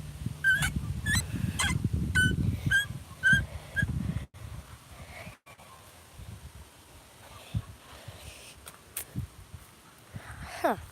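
Repeated shrill honking squawks of video game birds in a quick series at the start, then quieter scattered calls and faint noises, with no speech.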